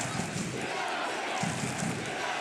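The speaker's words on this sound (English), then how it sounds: "And the cries of United ring around Eamonn Deacy Park." Galway United football fans chant and roar together inside Eamonn Deacy Park during an FAI Cup semi-final, a dense and continuous crowd noise with rhythmic swells of voices.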